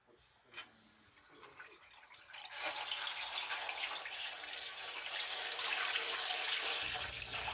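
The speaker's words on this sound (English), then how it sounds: "So, this is just our tap water." Tap water starts running after a short pause and keeps flowing steadily, a full rushing hiss that grows slightly louder.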